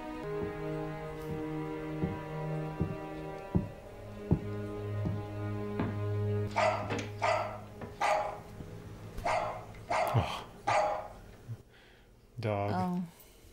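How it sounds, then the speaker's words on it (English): A dog barks several times in a World War II drama scene set around a German-occupied house, the barks sharp and mid-distance, mixed with a film score, other sounds and people talking. "Dog."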